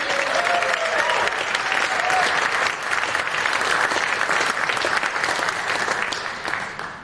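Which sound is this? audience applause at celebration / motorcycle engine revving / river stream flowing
audience applause at celebration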